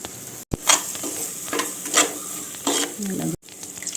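Sardine curry masala being stirred in a clay pot, giving several scraping strokes with a steady sizzle beneath, close and fairly loud, with two brief silent gaps.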